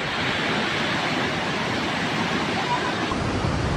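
Muddy floodwater rushes through city streets in Negros Oriental, a loud, unbroken roar of churning water that holds steady throughout.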